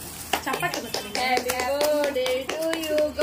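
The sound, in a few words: hand clapping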